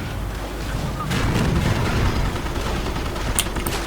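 Weapons fire in the video game Company of Heroes: a loud, continuous rumble of distant artillery and gunfire with heavy low booms and no clear individual shots, plus a few faint voices.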